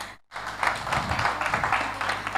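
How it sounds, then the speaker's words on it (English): Hackathon audience at a women in fintech event applauding a speaker, a sustained crowd clapping that rises after a brief cut of silence and continues evenly at moderate volume. "let us applaud him"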